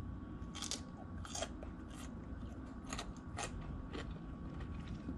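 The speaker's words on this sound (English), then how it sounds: "listen to the crunch" Crisp, close crunches from biting into a homemade bread and butter pickle spear, several separate snaps spaced about a second apart over a quiet background.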